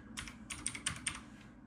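Keys clatter in quick clusters on a NABU computer keyboard, with about five bursts of close, faint, crisp clicks in a quiet room.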